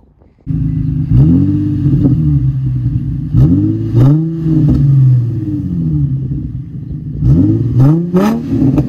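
A Nissan G35 engine revs repeatedly close by, each throttle blip rising and falling in a rumbling sweep, several bursts in a row.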